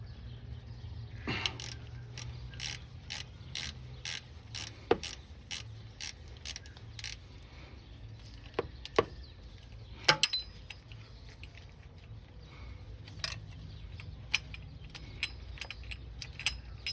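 A ratchet turns counterclockwise to loosen a 14mm serpentine pulley bolt on a Toyota 4.7L V8 engine. A regular run of close, crisp clicking bursts is followed by scattered metallic clinks and clunks, with no talk.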